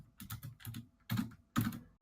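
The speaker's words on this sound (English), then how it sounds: "Hope you can hear my typing." Fingers clatter on a computer keyboard in quick bursts of close keystrokes, with short pauses between clusters and no talking.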